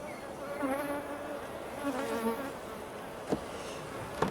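Honeybees buzzing around opened beehives after a hard winter, a steady droning hum of many insects with individual bees passing close and fading, a couple of faint knocks near the end, no speech.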